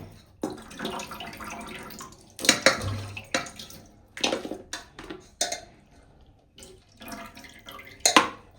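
Water sloshes and splashes in a basin as goat meat is washed by hand, with irregular close bursts of pouring and swishing, and occasional clatters against the container.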